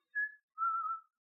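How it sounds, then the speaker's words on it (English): Two clean whistled notes, a short one followed by a longer steady tone, clear and alone against silence. "am I hearing that whistling?"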